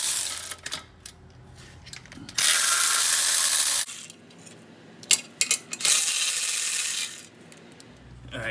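A ratchet clicks loudly and close while loosening the pressure plate bolts on a Z31 clutch, in several separate bursts of rapid pawl clicking with gaps and light tool handling between them.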